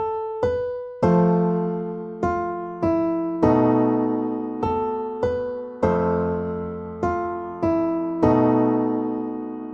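Closing phrase of the Star Trek musical theme, a sequence of bright, sustained struck chords, about a dozen attacks each decaying before the next, with a tritone resolving at the end, played alone without talk.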